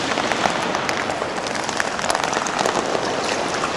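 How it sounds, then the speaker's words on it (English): Liquid drips and patters steadily inside a nuclear waste storage facility at Chernobyl, a dense, close, rain-like spattering with no talk over it. "Something is dripping here."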